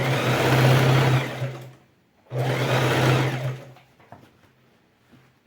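A sewing machine stitches a patchwork rug on TNT fabric in two loud, steady runs of about two seconds each, split by a short pause and followed by faint handling sounds.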